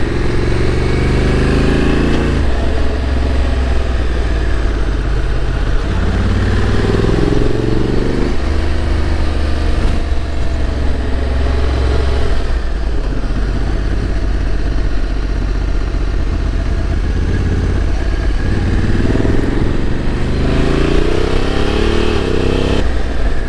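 Honda Africa Twin motorcycle with a 19-inch front wheel riding on a road, its engine droning steadily and loud throughout, with rising and falling pitch as it accelerates and shifts, plus constant wind rush.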